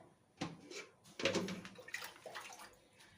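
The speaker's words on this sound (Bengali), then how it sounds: "জলটা দিয়ে আপাতত রেখে দিই" Water is poured into a pot in a few short, nearby splashing bursts that are fairly faint, with no talk.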